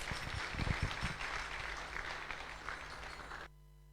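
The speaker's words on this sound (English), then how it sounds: "A huge round of applause" A room of listeners at a Sunday Love Feast gathering gives a round of applause for a guest speaker. The clapping is moderately quiet and swells early, then fades out and stops abruptly, leaving a low hum.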